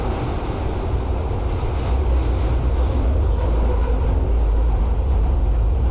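A London Overground train on the Bromley service in the video game Fallout London, its steady low rumble of wheels and motor rolling on continuously and loudly, close by, with no talking over it.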